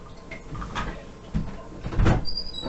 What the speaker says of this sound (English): my cat's scratching at the door